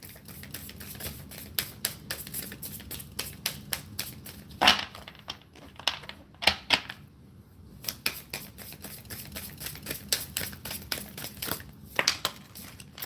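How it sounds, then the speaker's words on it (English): Rapid riffling and flapping of oversized stiff cards being shuffled, a dense run of crisp clicks broken by a few louder slaps and brief pauses, close by. "These cards are really big, so they're not very easy to shuffle."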